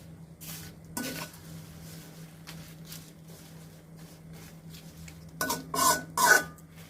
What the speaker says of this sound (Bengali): আঁচে নাড়াচাড়া করে এই হার্বাল অয়েলটা তৈরি করতে হবে।